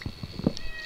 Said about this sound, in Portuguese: Olha lá, galera, um gatinho!